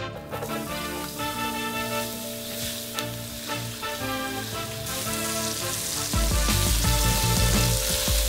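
Three ounces of mushrooms cooking down in a hot pan give off a loud, continuous sizzle and frying crackle that swells near the end, with no voices.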